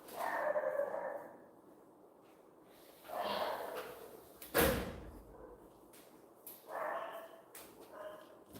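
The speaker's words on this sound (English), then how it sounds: "there are the dogs. They're starting already." Dogs barking in the distance, in a few separate bursts, with a door-like thud partway through and no talking.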